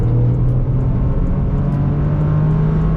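A Toyota car held in a lift-off four-wheel slide gives a loud, steady engine drone that holds a fairly even pitch throughout, close up with no talking.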